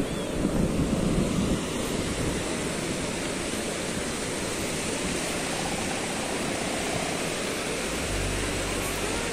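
Surf rolls in steadily on Serang Beach in Blitar, a broad wash of breaking waves mixed with wind buffeting the microphone. No voices are heard.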